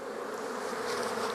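Honeybees hum in a dense, continuous buzz close by at an open hive, steady and even throughout with no voices.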